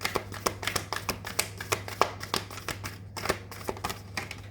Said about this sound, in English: we'll keep shuffling and see if anything else falls